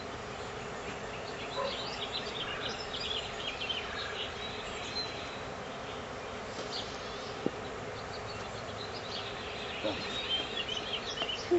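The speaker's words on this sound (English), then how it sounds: "A lot of bees." A steady, dense drone of many honey bees buzzing nearby, continuous throughout with faint scattered chirps in the background.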